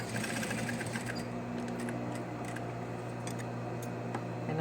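A sewing machine stay stitching the raw, unfinished edge of fabric for a face mask, a steady continuous mechanical whir running close and unbroken with faint ticking on top, no voices.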